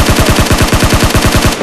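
An M24 rifle fires in a battle royale game, with a loud, rapid burst of about a dozen evenly spaced shots that cuts off abruptly at the end.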